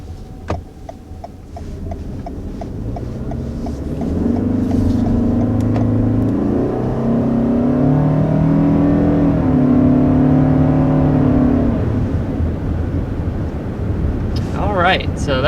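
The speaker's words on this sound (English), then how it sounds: "that was an acceleration up to 60 miles an hour" A 2021 Toyota Sienna hybrid minivan accelerates to 60 mph on a downhill road, its engine note climbing steadily through rising revs and shifts under road and wind noise, heard from inside the cabin without talk.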